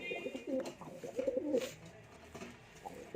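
Male pigeon cooing in soft, repeated bursts up close, the calls bunched in the first half and fading to quieter murmurs afterward.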